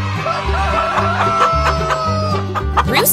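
A rooster from an animal-sound toy lesson clucks and crows in a short, close run of harsh, rising calls, loud and alone without talk.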